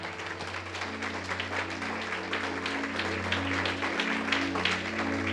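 A church congregation applauds during a Sunday-morning Christian service. The clapping is steady and dense, with sustained musical tones from instruments underneath it for the whole stretch.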